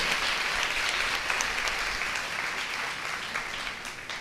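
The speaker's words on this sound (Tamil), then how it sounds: "நல்லா தான் ஒரு கைத்தட்டு கொடுக்கலாமே ஆண்டவருக்கு." Congregation applause at a Tamil Sunday church service, a full, steady round of clapping from many people, continuous and fairly even for several seconds.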